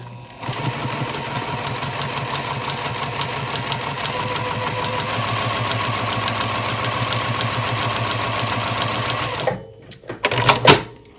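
A sewing machine stitches a quilt block fast and steady for about nine seconds, then stops, followed by a couple of brief clicks and rattles.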